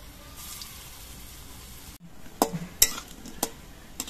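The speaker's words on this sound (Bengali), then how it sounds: "বাকি বড়াগুলো আমি একভাবে ভেজে নিচ্ছি।" Lentil fritters (bora) fry in oil in a kadai, a soft steady sizzle broken by several sharp clicks and scrapes of a spatula stirring, close by and fairly quiet.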